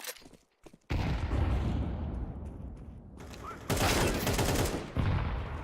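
Heavy, continuous gunfire from Counter-Strike 2 on the Dust 2 map. A short quiet opening gives way to sustained close, loud volleys and rapid shots, with a further burst near the end.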